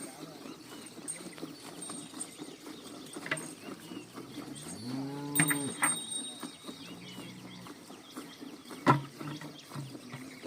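An HF dairy cow lets out one drawn-out, low moo partway through a live milking, set among murmured talk, background shuffling and occasional knocks.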